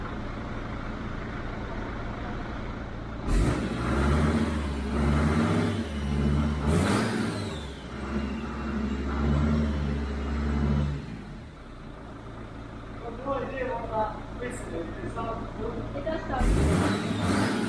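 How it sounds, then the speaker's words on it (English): Van engine running and warming up to temperature, a steady rumbling drone with a couple of revs that swell and fall back, loud and continuous, with a voice talking over parts of it. "the van could be run properly and brought up to temperature"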